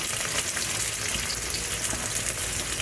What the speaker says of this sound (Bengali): পেঁয়াজটা লাল লাল করে ভাজতে হবে।